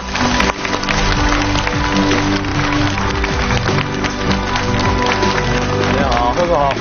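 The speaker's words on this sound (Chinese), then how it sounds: "来，让我们掌声有请二位。" A TV talk-show studio audience claps to welcome a film director and the lead actor onto the stage. The dense, crackling applause is loud and sustained for the full stretch, with music-like tones running underneath.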